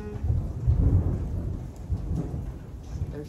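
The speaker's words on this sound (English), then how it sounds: "There's the thunder." Deep rolling thunder rumbles through a storm alongside a steady wash of rain, sounding low and continuous, moderately loud throughout.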